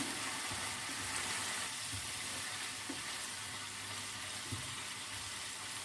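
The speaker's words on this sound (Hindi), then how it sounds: "दो मिनट के लिए हम चिकन में नमक मिर्च को भून लेते हैं।" Chicken frying with salt and chili in a pan gives a steady, soft hiss of sizzling, with faint stirring knocks now and then and no talking.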